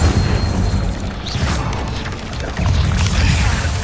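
A fire spell cast in the Hogwarts Legacy video game: a loud, dense whooshing blast with booming low rumble and crackling bursts, surging again near the end, with no talking.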